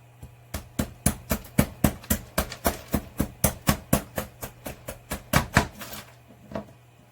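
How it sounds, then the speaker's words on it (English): Knife chipping and shaving away at a block of ice to shape a fancy cube: a steady run of about two dozen sharp, close, crisp chops at a brisk, even rhythm, with a low hum beneath and no talking. "you can start working just with your knife, chip and shave"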